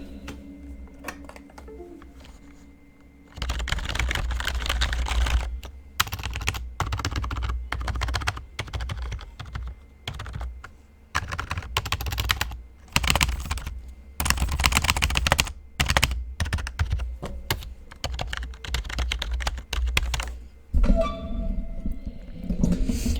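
Close, steady clattering of keys on a Bugha Five Below one-handed LED keyboard, with dense bursts of typing separated by brief pauses and a low thump under the keystrokes, no talk.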